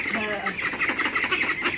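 Ducks call with nasal quacks close by, mixed with a voice speaking over the birds throughout.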